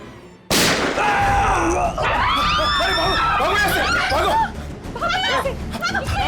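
A sharp gunshot cracks out suddenly, followed by agitated overlapping voices and shouting as the scene erupts in commotion.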